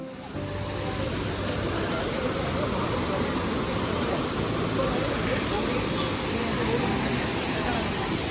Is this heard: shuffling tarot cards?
no